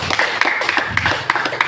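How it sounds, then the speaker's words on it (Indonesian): Students in a Grade 8 classroom clap for two groups, a close, lively burst of individual hand claps in a loose, uneven rhythm with a slight patter under it. "Tepuk tangan untuk 2 kelompok."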